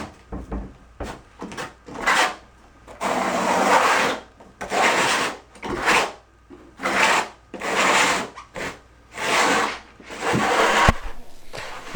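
A flat trowel's backside scrapes polymer-modified thinset into a dampened plywood subfloor before Ditra goes down, in a shower tile install. Repeated rough rasping strokes, each about a second long with short pauses between, close and fairly loud, no talking.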